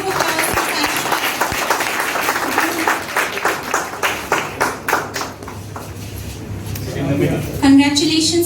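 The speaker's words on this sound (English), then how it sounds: "A huge round of applause." An audience at a school event claps, first as a broad round of applause, then in rhythmic, evenly spaced collective claps that taper off, while a voice speaks near the end.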